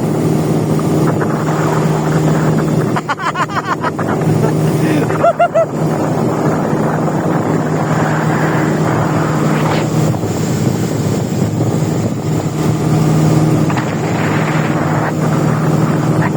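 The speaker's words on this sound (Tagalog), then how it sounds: "Naririnig ko yung turbo. Umuugong." A racing boat's turbo engine roars steadily during an informal boat race, with a loud continuous drone mixed with heavy wind buffeting and splashing water, and a brief chattering burst partway through.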